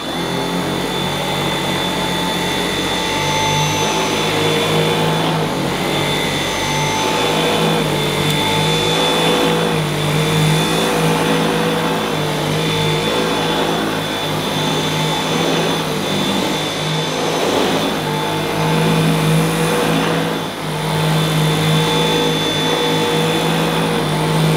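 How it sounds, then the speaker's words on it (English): Dyson V8 Extra cordless vacuum cleaner on its minimum setting, making a steady whining motor drone with a constant high tone as it passes over carpet, loud and close for the whole stretch with no talking. "one forward and one backward pass over the carpet using the Dyson V8 on its minimum setting"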